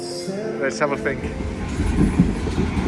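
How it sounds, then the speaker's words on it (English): The Indian Pacific, an enormous passenger train many carriages long, rumbles and clatters steadily nearby while a person speaks over it. "It's an enormous train, many carriages long."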